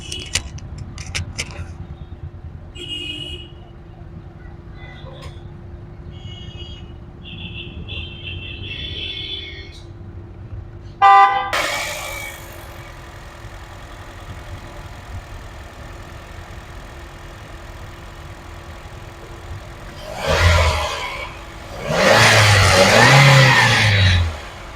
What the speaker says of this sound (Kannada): ಕೇಳ್ಕೊಂಡಿದ್ದೀರಾ ಇಂಜಿನ್ ಸೌಂಡು ಇಂಜಿನ್ ಅಂತ ಸ್ಮೂತ್ ಆಗಿದೆ